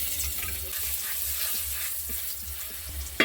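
Garlic paste frying in a little oil in a wok, a continuous soft sizzle with faint scraping, steady throughout and no voices.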